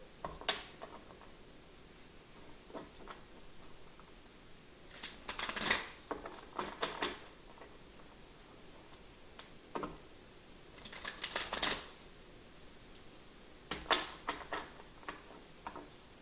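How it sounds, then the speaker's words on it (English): Tarot cards are shuffled and laid down on a table in two quiet flurries of papery slaps and riffles, with softer isolated card taps between them and no talking. "Let's throw down some clarification cards here for you"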